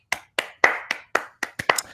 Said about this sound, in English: Let's give Yaz a round of applause.